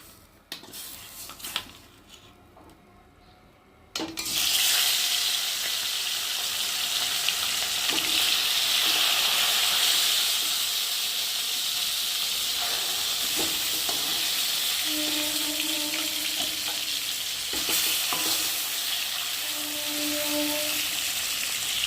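Fish go one by one into hot oil: a quiet start with a few clinks, then a sudden loud sizzle that holds steady, broken by utensil clatter and brief tonal clanks of a pan.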